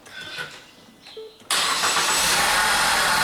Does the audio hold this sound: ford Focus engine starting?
yes